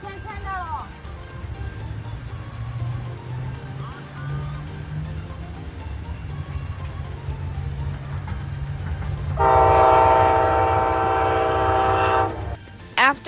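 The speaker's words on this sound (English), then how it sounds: "After Amtrak 19 came to Austell, I saw 2 P42DC units coming" Amtrak 19 passenger train led by two P42DC locomotives rumbles past in Austell, with a loud sustained multi-tone horn blast near the end over the steady rolling rumble and wheel noise.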